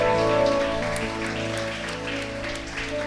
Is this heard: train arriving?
no